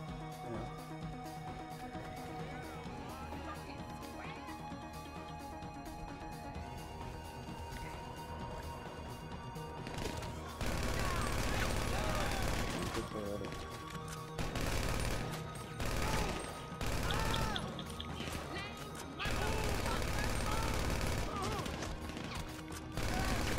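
Gunfire in a heist video game, with bursts of rapid automatic shots and scattered single cracks over steady game background noise, growing dense and loud in the second half.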